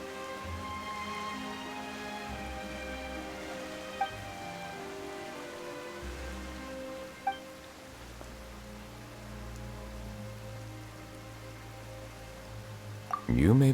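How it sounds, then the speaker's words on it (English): Steady rain falls throughout a Genshin Impact cutscene, a soft continuous patter over a sustained musical score, with a few faint drips and a brief sound near the end. "Why is it raining all of a sudden?"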